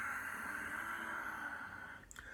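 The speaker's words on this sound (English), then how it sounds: "Soft, silky, whistling ujjayi breath, victorious breath" Ujjayi yogic breathing through a constricted throat gives a soft, steady whistling hiss. A single long breath fades out at the end.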